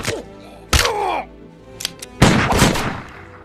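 Gunshots in a film fight scene where a coffee seller turns out to be a hitman, heard as several sharp loud bursts with ringing tails, a brief pair of smaller cracks between them.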